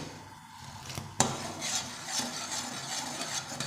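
Chai being whisked hard in a pot over full flame, a steady scraping and clinking of utensil against metal with one sharp knock near the start, close and fairly quiet with no talking.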